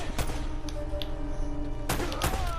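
Gunfire in the combat game Uncharted: Drake's Fortune, a dense loud stretch of rapid shots and thuds with sharp bursts near the start and again near the end, over a steady game score.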